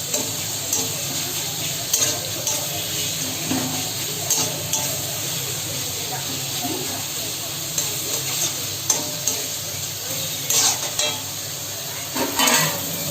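Onions stir-fried over high heat in a pan for home-style egg chicken chow mein, a loud continuous sizzle broken by repeated spatula scrapes and metallic clinks against the pan, with no talking.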